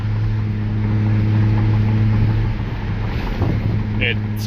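A car running with its resonators removed, fitted with exhaust tips and intake work, gives a steady deep droning exhaust note that holds close and loud throughout, with a little wind noise and a brief higher sound near the end.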